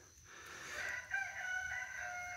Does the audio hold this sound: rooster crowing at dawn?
yes